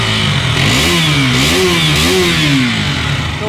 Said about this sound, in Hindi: इसकी एग्जॉस्ट नोट सुनिए गाइस आप